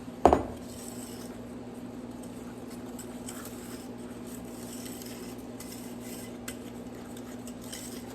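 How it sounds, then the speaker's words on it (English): Thick chocolate pie filling being stirred in a bowl: one loud clank of a spoon at the start, then quiet, faint stirring over a steady low hum. "You wanna make sure you get it all mixed"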